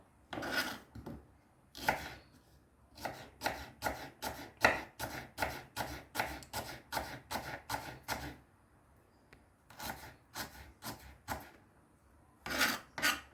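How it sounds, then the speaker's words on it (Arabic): A knife chops onion on a board in quick, even, rhythmic strikes that come in several bursts with short pauses between them. The sound is close and crisp, with no talking. "ولا بنفرم بصل"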